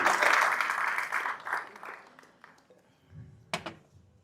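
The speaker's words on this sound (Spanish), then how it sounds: "el aplauso es para Gano Excel" A business-seminar audience applauds for the Gano Excel network-marketing company, a short burst of clapping that quickly dies away into quiet, with a few faint knocks and thumps afterward.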